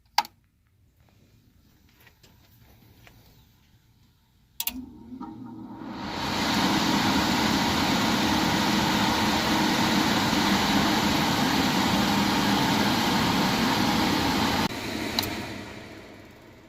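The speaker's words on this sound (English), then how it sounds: "because I jumpered it here at the furnace board, I'm bypassing my thermostat and my blower should turn on" A furnace blower motor kicks on after a click, ramping up over a couple of seconds into a loud, steady rushing whoosh of air that holds evenly, then another click near the end.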